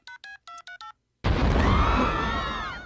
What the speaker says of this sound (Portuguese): eu vou ligar para o Mahmoud agora desse celular que ele me deu